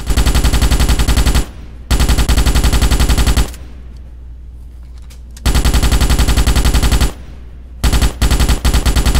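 Rapid automatic gunfire from a Starship Troopers first-person shooter game, loud sustained bursts of machine-gun fire separated by short pauses, with quieter gaps between volleys.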